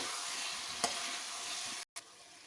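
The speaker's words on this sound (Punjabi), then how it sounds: "ਆਲੂਆਂ ਨੂੰ ਵੀ ਤੜਕੇ ਵਿੱਚ 1 ਮਿੰਟ ਲਈ ਭੁੰਨ ਲਾਂਗੇ" Potatoes roasting in a hot spiced oil tempering for dum aloo, a soft steady sizzle close by with a brief stirring scrape and a short break near the end.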